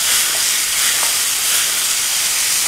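Courgettes cooking in a pan, a steady, even hiss and sizzle that carries on without a break, close and fairly loud, with no one speaking.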